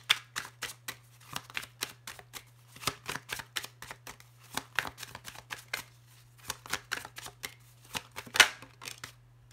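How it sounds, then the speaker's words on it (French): Tarot cards are shuffled and drawn in a quiet room, giving crisp, close riffling flicks in irregular bursts with brief pauses and a steady low hum underneath. "je vais tirer une carte conseil pour vous et une carte conseil pour la personne éventuellement que vous avez dans le cœur"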